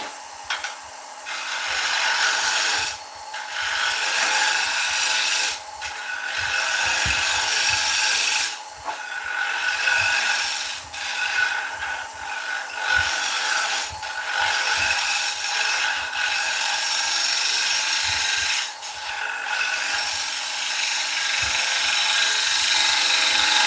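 A wooden bowl spins on a wood lathe at about 900 RPM while a tool hollows it out, producing a continuous hissing, rasping cut with brief dips as the tool lifts off the wood.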